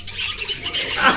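Farm birds in Bohol, Philippines crowding close, a quick burst of high chirps and squawks in a short, busy flurry with no talking.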